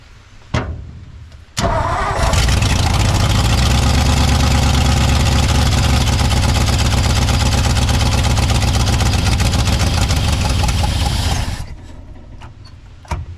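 1959 Ford F-600 straight truck with a Y-block V8 cranks, catches and runs at a loud, rough, lumpy idle for about ten seconds before stumbling and dying, with clanks before and after.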